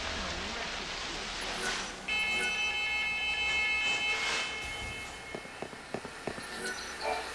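Train in the video game Lightning Returns: Final Fantasy XIII, a steady rumbling hum with a sustained whistle-like tone in the middle, fading toward the end as a voice speaks over it.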